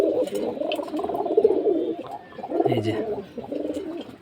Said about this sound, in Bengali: কবুতরকে খাওয়ালাম খিচুড়ি।